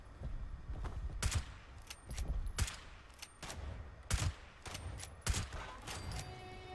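Rapid gunfire from the Fallout 76 video game, with repeated sharp, loud shot bursts in uneven clusters over a steady game-ambience background and no talk.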